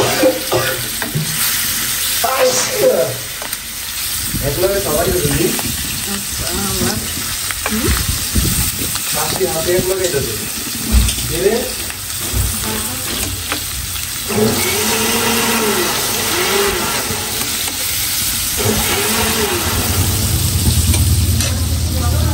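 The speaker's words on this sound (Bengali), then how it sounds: "বেগুন ভাজা শেষ, আমি এখন ইলিশ মাছ ভাজতে।" Hilsa fish frying in hot oil in a home kitchen, a continuous loud sizzle with spattering and stirring scrapes, a voice murmuring faintly in the background at times.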